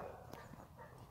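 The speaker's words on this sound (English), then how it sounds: "This one has two dogs that always bark at us." A small schnauzer gives a single short bark outdoors, heard partway through a rough, noisy background with no clear run of repeated barks.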